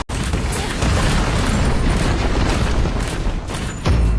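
A tower being destroyed in the Arena of Valor mobile game, heard as a loud, sustained rumbling blast with crackling bursts that carries on for several seconds and ends in a heavier boom.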